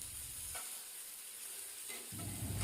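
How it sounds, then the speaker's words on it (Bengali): Bitter gourd fries in hot oil in a wok, a quiet, steady sizzle with brief bursts of louder crackling and stirring near the start and end, no voices present. "আমার উচ্ছেগুলো ভাজা হয়ে গেছে"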